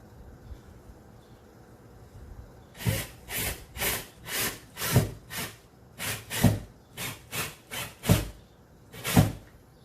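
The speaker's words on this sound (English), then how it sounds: "So I'm using a number 6 by 1 inch screw. I'm going to drive it" A number 6 by 1 inch screw is worked into wood in a micro camper, giving about a dozen short, rhythmic grinding creaks after a quiet start, close and clear with no talking.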